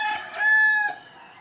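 A rooster crows once, a long drawn-out call at moderate distance, with no other sounds around it.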